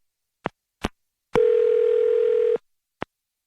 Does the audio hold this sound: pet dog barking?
no